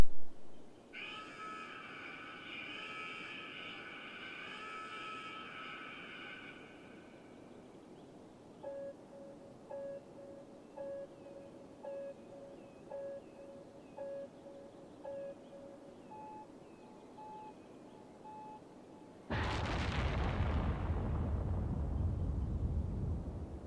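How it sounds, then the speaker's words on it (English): A rocket launch in the city-building game Cities Skylines, with beeping countdown tones before a sudden loud roaring blast that rushes in and holds steady to the end. "Let's launch this rocket."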